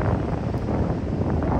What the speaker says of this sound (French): par ce magnifique temps venteux